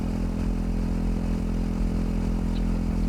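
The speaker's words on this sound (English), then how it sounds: "There's also something really awesome about riding the Himalayan 450 at slow speeds." A Royal Enfield Himalayan 450 rolls along a road at slow speed, its engine giving a steady, low, continuous drone mixed with wind and road noise, with no speech.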